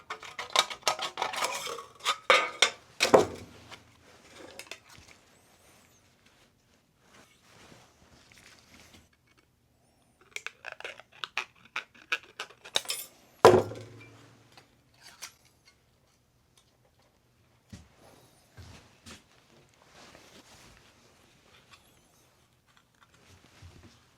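Tin snips cut through a piece of metal step flashing, giving sparse sharp metallic clicks and crunches with two loud snaps and quiet pauses between cuts.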